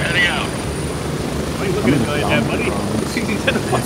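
A helicopter in the shooter Gray Zone Warfare holds a steady, loud rotor and engine drone throughout, with voices talking over it.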